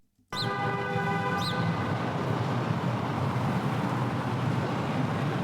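A bus horn sound effect sits in an edit, a short bright honk with stacked harmonic tones near the start, then a second brief toot after about a second, all riding over steady, loud rumbling engine noise with no talking.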